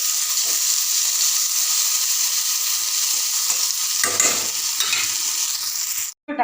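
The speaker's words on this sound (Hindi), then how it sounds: "फ्राई करवा" Chips frying in hot oil in a wok, a loud continuous sizzle with occasional stirring scrapes partway through, alone without talk before a brief cut at the end.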